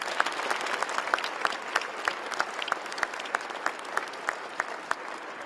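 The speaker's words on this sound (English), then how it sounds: "we give you a round of applause to all the workers" An audience at a government announcement of a Bombardier aircraft fleet contract applauds the aircraft workers, steady dense clapping from a moderately sized crowd heard at some distance and continuing evenly throughout.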